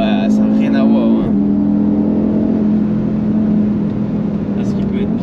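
A 2019 Audi RS3 with 400 horsepower and its exhaust valves closed sends a loud, steady engine drone through the cabin while driving on the road, with a brief murmur of voices near the start.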